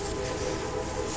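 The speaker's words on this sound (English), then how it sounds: "Can hear a railroad or a train whistle." A train whistle sounds as a steady, sustained tone over rumbling background noise, moderately loud and somewhat distant, heard from Deer Run Forest Preserve.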